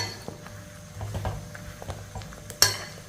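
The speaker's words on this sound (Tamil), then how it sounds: "இப்போ நம்ம இடித்து வச்சுருக்க இஞ்சி, மஞ்சள் கிழங்கு இதையும் இதில் போட்டுக்கிடுவோம். இது எல்லாத்தையும் நல்லா மிக்ஸ் பண்ணிக்கிடுவோம்." Crushed ginger and turmeric root are stirred into hot oil in a pan, giving soft scraping and stirring strokes over a low sizzle, with one sharp clink of utensil against the pan near the end.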